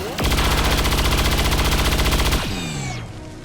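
A rapid, evenly paced burst of automatic gunshots in XCOM 2 hammers loud and close for about two seconds, then cuts off into a descending mechanical whine and fading tail.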